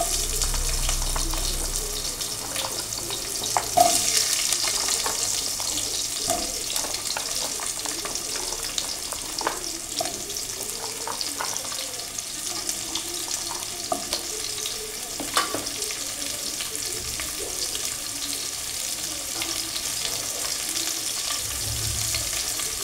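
Vegetables with radhuni seed spice sizzle in a pan while being stirred, a continuous frying hiss with scraping and clinking of the spoon, close and steady throughout.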